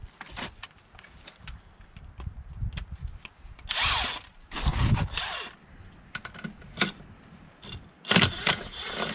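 A power tool with a 14 mm socket removes bolts from a Mercruiser boat sterndrive in short, irregular bursts of whirring and rattling, broken by clicks, clanks and quiet gaps, close by.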